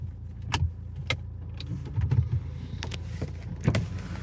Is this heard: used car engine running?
yes